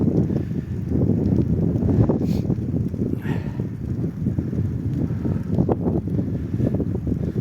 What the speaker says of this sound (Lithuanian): Jau vėjas stipresnis čia mieste.